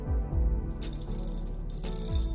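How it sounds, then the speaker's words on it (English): Wrench ratcheting on a rocker arm nut on a Mercury 305 engine during a rebuild, a loud, close, continuous metallic clicking and grinding rattle lasting a couple of seconds. "I'm gonna tighten this nut down and I'm gonna keep rotating this push rod until it just feels snug"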